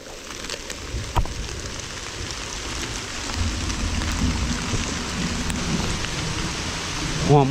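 Heavy rain pours in the hills, a dense continuous roar of drops on surfaces that builds slightly toward the end, with no voices.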